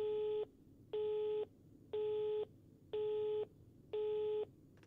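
A telephone busy tone from the horror video game Rise of Insanity, five even beeps with regular pauses, steady and clean over a quiet background hum.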